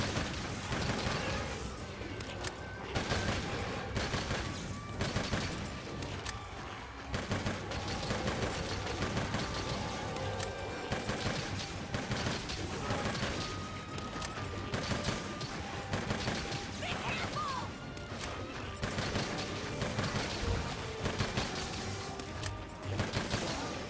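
Dense, continuous rapid gunfire fills the whole stretch in the Monster Hunter Rise video game, with relentless overlapping shots and mechanical clatter at a steady loud level.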